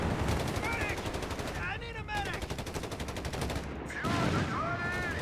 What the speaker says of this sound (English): Panther firing away there with its mighty 75mm high velocity gun.